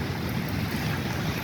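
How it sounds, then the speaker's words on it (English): Strong gusting wind during heavy rain in downtown Cincinnati, a loud dense continuous roar buffeting the microphone, with rain hiss blended underneath and no break. "Look how windy it is."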